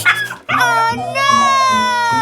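Cartoon dog whimpering and barking, a high tonal whine followed by sustained, wavering vocal cries with harmonic yelps, loud and close, with no other sounds.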